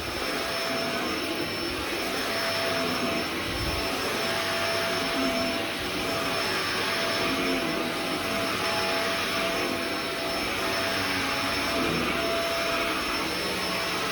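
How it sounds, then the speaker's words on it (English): A vacuum cleaner runs continuously over a heavily matted carpet in a hallway during low-moisture carpet cleaning, a loud, steady whine and rushing airflow close by with slight rises and falls as it is pushed back and forth. "It's all in the vacuuming when it comes to low moisture."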